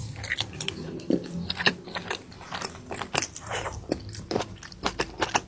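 Close-up bites and chewing of mini fudgy brownies with a crispy outside and chewy inside, crunching in repeated sharp crackles and soft mastication, loud near the mic with no talking.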